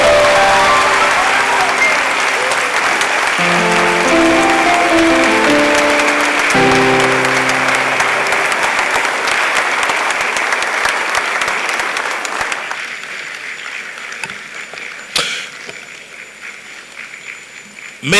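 Audience applauding at an honoring ceremony for a lawyer and public servant, a loud sustained ovation with musical tones from a keyboard underneath, fading after about twelve seconds into quieter scattered clapping.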